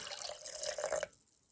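Water poured from a container into sourdough starter in a jar, a short close trickle that runs steadily for about a second and then stops abruptly, leaving near silence.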